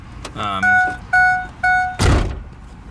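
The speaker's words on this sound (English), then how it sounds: "When I open the door, it beeps" Three evenly spaced electronic warning beeps from a 2004 Ford E-150 van as its door opens with the key out of the ignition, preceded by a door thunk and followed by a louder thud, close by.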